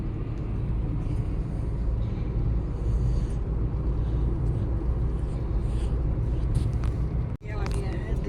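Inside a family car driving along a highway toward an expressway, a steady low road rumble and engine drone fill the cabin, with one brief sharp knock near the end.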